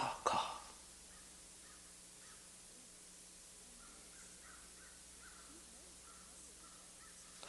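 Faint, distant crow caws drift in from outdoors over a parking lot in an otherwise very quiet room, after a brief knock at the start.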